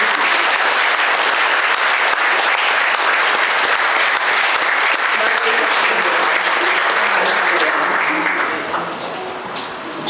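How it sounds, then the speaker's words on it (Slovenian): Audience at the Slovenian Chess Federation's 90th anniversary celebration gives loud, dense, sustained applause, easing slightly near the end. "Predlagamo še en aplavz za našega"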